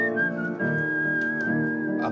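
A person whistles a sustained, steady tune with smooth pitch glides, loud and close, with no talking.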